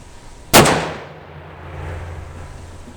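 A Smith & Wesson 500 Magnum revolver fires a single 500-grain round, a loud, sharp, close blast that rings out and fades over about half a second, with no talk.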